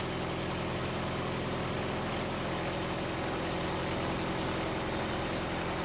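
A small RV-8 aircraft piston engine holds a steady idle near 1270 RPM, a continuous loud low drone with an even rumble and no talk over it.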